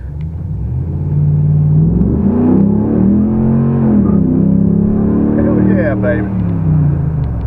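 A supercharged muscle car engine revs loudly up close, the deep rumbling exhaust swelling and falling through several blips, with a man calling out excitedly over it.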